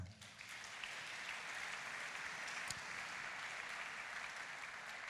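A church congregation applauds together, a dense, continuous wash of clapping that stays even and fairly distant for several seconds, with no speech over it.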